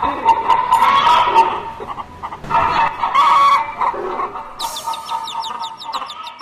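Hens clucking and a rooster crowing close by, with overlapping calls and bursts of cackling that pause briefly and resume, followed by higher, quicker chirps near the end.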